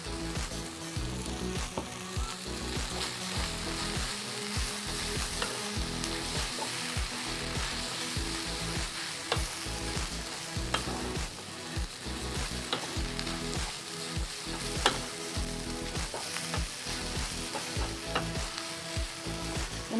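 Yellow wet noodles stir-fried with chili, scallion and celery sizzle steadily in a hot pan, with a continuous loud frying hiss and frequent scraping stir strokes throughout, no talking.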